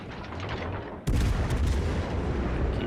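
Tank cannon fire in a video game: heavy, booming shots, then a sudden louder blast that rolls on in dense, rumbling gunfire and echoing reports, with no talking.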